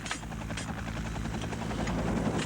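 An Afghan Air Force Mi-8 attack helicopter flies overhead, its steady rotor thump and turbine roar loud and continuous throughout, with no talk.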